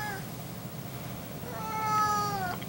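A cat meows once, a drawn-out, rising-and-falling call near the end, close by over a steady low indoor hum.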